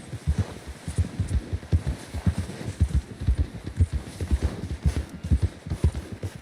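Horse hooves clip-clop at a steady trot in Red Dead Redemption 2, a close, even rhythm of dull thuds on the ground continuing throughout with no talk.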